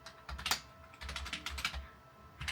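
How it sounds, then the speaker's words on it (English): Fingers type an email address on a computer keyboard, a quick, close, quiet patter of keystrokes in irregular bursts with a short pause near the end. "I'm going to type my email address in."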